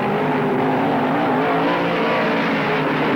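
Modified race cars roar around a dirt oval at Tri City Raceway Park, their engines blending into one loud, continuous, dense drone with no breaks and no voices.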